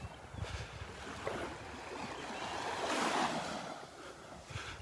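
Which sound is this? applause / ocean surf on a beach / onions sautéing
ocean surf on a beach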